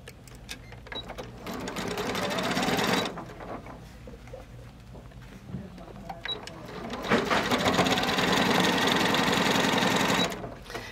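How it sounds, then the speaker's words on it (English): A sewing machine stitches lining pieces for a sling bag in two sustained whirring runs, each lasting about three seconds, separated by a quieter pause with small handling noises; the motor is close and steady throughout. "I'm doing on the interior. Sewing these pieces together."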